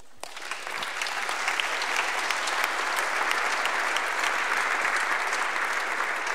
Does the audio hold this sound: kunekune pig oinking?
no